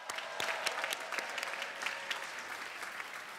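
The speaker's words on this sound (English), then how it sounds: "Let's give them a round of applause to our special alumni" A university convocation crowd at Columbia applauds honored alumni, a steady wash of many hands clapping at a distance, fairly soft and continuous with no talking.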